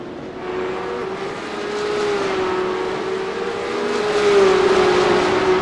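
Porsche Cup race car engine in the iRacing sim at Road Atlanta, a steady high drone holding pitch with slight rises as the car barrels toward turn 1, loud and continuous with no talk.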